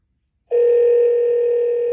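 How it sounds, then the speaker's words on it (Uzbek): A ringback tone sounds on an outgoing call to a phone placed through a camera. It is a single steady electronic tone that starts abruptly after half a second of silence and holds without talk. "Kameramiz orqali telefonga gudok ketdi"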